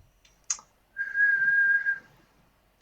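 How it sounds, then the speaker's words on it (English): A single person whistles one steady, clear sustained note for about a second in a quiet room, with a brief click just before it and a short noise right at the end. "That was me whistling"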